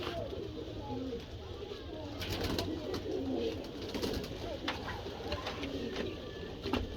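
Pigeons cooing at a breeder's loft, soft repeated low coos close by over faint background chatter and occasional bird calls.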